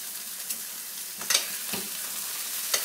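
Date-stuffed pork tenderloin sears and browns in a hot pan, a steady close sizzle broken by a few sharper pops and turning scrapes.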